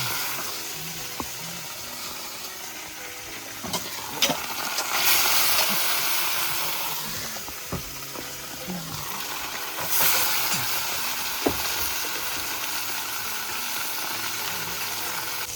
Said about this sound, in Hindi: बढ़िया से फ्राई हो रहे हैं।